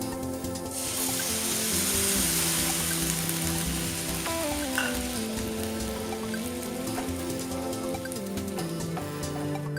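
Pumpkin simmering in tamarind water in a pan, a steady soft bubbling hiss that runs throughout, with faint background tones and no talk.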